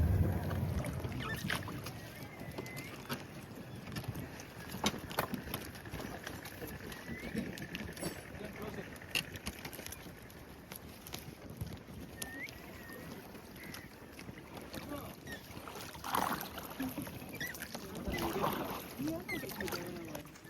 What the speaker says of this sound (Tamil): ஸோ நாங்கள் இப்போ துடுப்பு போட்டில் போக போகிறோம் 6 பேரும் சேர்ந்து